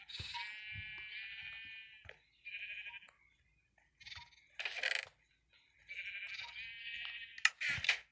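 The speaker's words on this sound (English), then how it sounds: "Does that mean I have to kill all these sheep?" Sheep in a video game, bleating repeatedly in short, nasal, overlapping calls separated by brief silences, with a few soft thuds.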